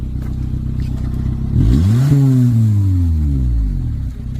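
A Maruti Esteem car engine revs up close as a ride begins, its pitch climbing sharply and then falling back into a steady loud drone.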